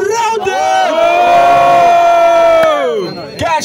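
A crowd roaring and cheering at a Brazilian street rap battle between rounds, a loud sustained mass of shouting voices with whoops, swelling and then fading over a few seconds.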